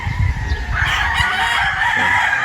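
A Brown Gray gamefowl rooster on a farm crows loudly and close by in one sustained call, with clucking and other farm fowl in the background.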